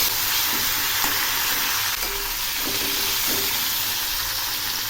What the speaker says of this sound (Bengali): এই মাছগুলো এক পাশ ভাজা হয়ে গেছে